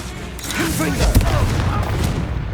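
Blasting spell impacts in Hogwarts Legacy, a couple of booming bursts with crackling debris, heard close and loud, layered with a spoken incantation and game effects.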